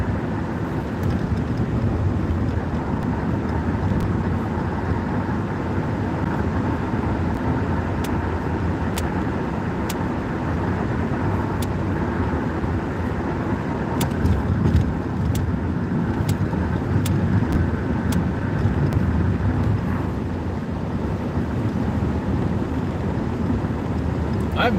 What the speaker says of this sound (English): as I drive off to the machine shop